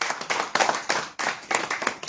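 A group at a religious gathering claps in rhythmic bursts, close and fairly loud, with short pauses between clusters of hand claps over about two seconds.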